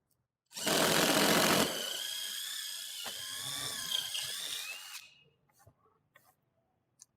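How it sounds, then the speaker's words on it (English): A drill with a 3/8-inch bit whines up to speed and grinds steadily through a wooden barn door for a few seconds, then stops, leaving a few faint knocks. "I will drill with a 3/8 drill bit and widen the holes for my hex bolts"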